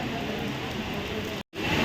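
Heavy rain at Erode bus stand gives a dense, steady hiss of downpour on surfaces, loud and constant, broken by one brief dropout.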